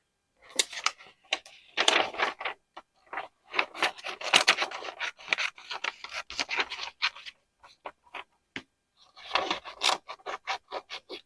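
Scissors snip fabric pieces for an owl collage, close and clear, in quick runs of crisp cuts broken by short pauses, with no talking.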